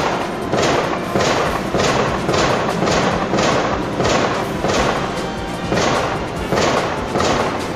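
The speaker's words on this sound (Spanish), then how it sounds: "en medio de estos disparos" Repeated gunshots echo down a residential street during a navy operation, roughly a dozen sharp cracks in a steady rhythm, loud and close, with no voices.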